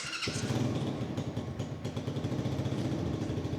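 A Kayo Bull 125 youth ATV with its choke on fires up after a short starter whir, then settles into a steady, close, lumpy putter of the small engine, with no talk.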